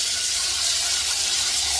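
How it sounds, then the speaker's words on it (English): Water pours steadily from a tap into a pot holding a whole chicken for broth, a continuous hissing rush with no breaks, close and fairly loud. "I'm gonna fill this up, and I wanna make sure that my water covers the chicken"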